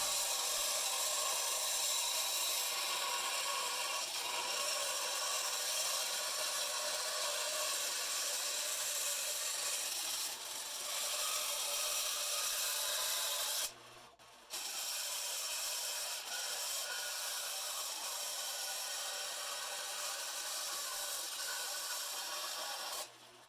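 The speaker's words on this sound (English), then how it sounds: "Over at the bandsaw, I cut off the excess steel stock and then begin following the lines that I've traced on the steel" Bandsaw cutting through steel stock for a kiridashi knife blank, a continuous close grinding hiss with a brief drop in level midway before the cut resumes.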